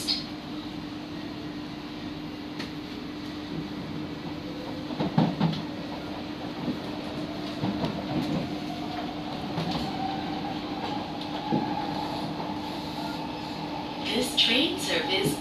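A Singapore MRT North South Line C151A train runs between Bukit Batok and Jurong East, heard from inside as a continuous rumbling hum with a steady motor tone, scattered wheel clacks and a rising whine as it travels.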